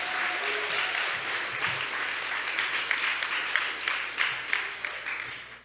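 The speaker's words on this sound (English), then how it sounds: "Let's give her a round of applause." A school award chapel audience claps continuously for several seconds, a dense, steady wash of many hands that slowly tapers off at the end.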